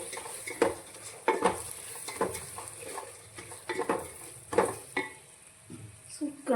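Chilli powder, turmeric and salt get stirred in a pan, with irregular scraping and clattering strokes of a utensil over a faint sizzle, close and uneven in loudness.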